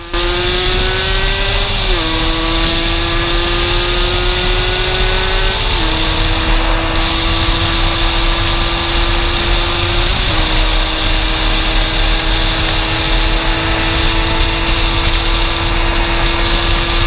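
A motorcycle engine drones steadily throughout, its pitch stepping up and down as it revs and shifts, loud and close with no talking.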